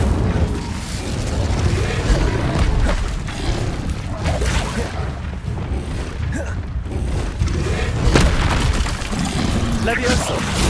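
An Incendio fire spell cast in Hogwarts Legacy, a loud roaring burst of flame that rumbles and whooshes in sustained waves over game effects and background noise.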